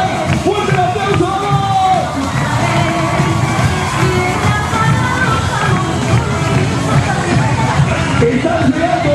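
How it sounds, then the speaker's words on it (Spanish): A big outdoor crowd at the closing of the Corrientes carnival roars, with loud cheering, shouts and dense hubbub, with voices and clapping mixed into a constant, close wash of noise. "¡Fuerte el aplauso!"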